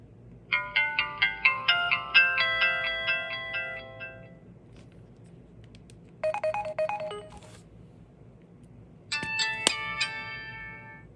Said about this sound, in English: What a wonderful startup and shutdown noise, am I right?